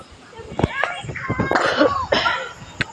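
A person coughs a few times outdoors in strong wind, the coughs mixed with other voices and speech.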